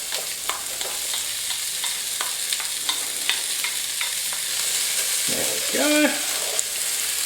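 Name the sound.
chopped onion and diced bacon frying in a pot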